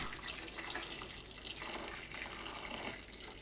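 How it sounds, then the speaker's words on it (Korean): Boiling water pours over cut tofu in a kitchen, a faint, steady splashing stream of liquid lasting a few seconds, with no voices. "두부에 끓는 물 붓고 10초 두었다가 건져내세요."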